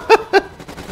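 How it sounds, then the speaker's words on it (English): Two sharp bursts of gunfire from the Panty Party video game crack out close together, loud and punchy, followed by quieter game noise. "Why are they shooting at me?"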